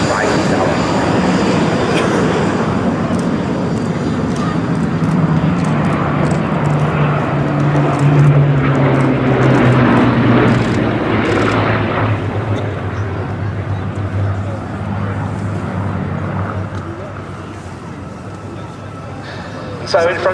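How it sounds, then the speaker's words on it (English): A Bristol Blenheim leading a pair of Hawker Hurricanes past the crowd at the Duxford Battle of Britain airshow, piston engines droning louder then fading, with an announcer talking over them. "the Bristol Blenheim leads a pair of Hawker Hurricanes."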